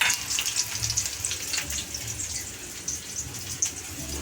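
Chopped onions with bay leaf fry in hot oil in a home kitchen pan, giving a close, continuous crackling sizzle with small pops and no talking.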